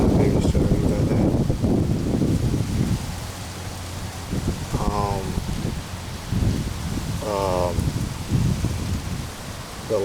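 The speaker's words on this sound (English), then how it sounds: "It's very windy." Strong wind gusting across an outdoor microphone, a steady low rumbling buffet that swells and eases throughout, with faint background sounds mixed in.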